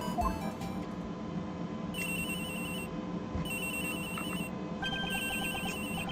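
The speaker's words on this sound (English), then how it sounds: "Oops, excuse me, phone call." An electronic phone ringtone from the video game Ace Attorney Investigations 2 trills in repeated bursts, with short pauses between rings, over a steady, busy background of game music.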